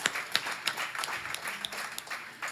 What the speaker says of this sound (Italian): non ha paura di ricevere questo applauso